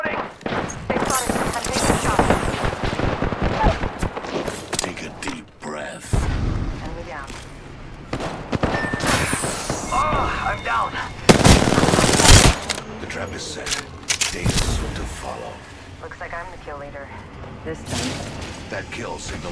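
Rapid gunfire bursts from Apex Legends, dense automatic volleys and booming shots crowding the soundtrack, with game character voice lines spoken over the shooting.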